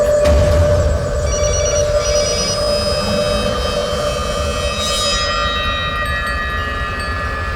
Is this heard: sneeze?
no